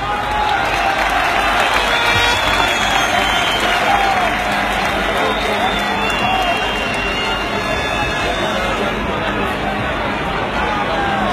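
Crowd applause in a town square at a Pescara evening celebration for the team with the mayor, sustained dense clapping and cheering that stays loud and steady throughout, with crowd babble mixed in.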